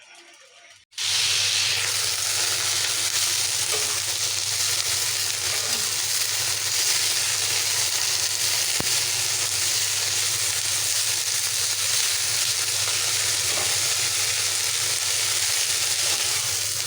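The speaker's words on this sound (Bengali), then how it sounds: "তো আগে পেঁয়াজ রসুনগুলা ভাজা নেই।" Onion and garlic fry in oil in a wok, starting with a sudden loud hiss as they go in, then a steady, close sizzle holding without a break to the end.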